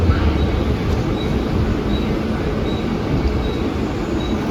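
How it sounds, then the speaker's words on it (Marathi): A train rumbles steadily near Bombay Central station, a continuous close roar of rolling wagons with faint repeating high tones, no voices. "ट्रेन येते इथे"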